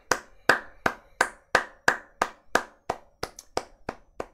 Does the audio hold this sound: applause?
yes